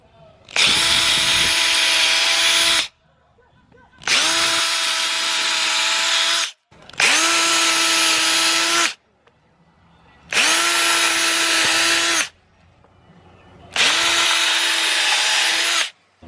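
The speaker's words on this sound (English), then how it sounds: "I got a 5 32nd bit to drill the pilot holes" A power drill with a 5/32 bit boring pilot holes for a DIY overhead camera rig table, whining in five steady bursts of about two seconds each, separated by brief pauses, loud and close.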